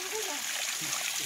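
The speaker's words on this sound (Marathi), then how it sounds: "पत्र्यावरनं पाणी पडतंय." Rainwater from a ghat slope runs off a metal roof sheet near Anjarle in coastal Konkan, a dense, steady splashing wash heard close and loud for a brief moment.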